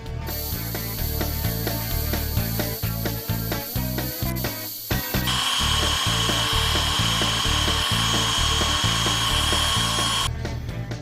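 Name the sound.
sanding inside of wooden bowl on lathe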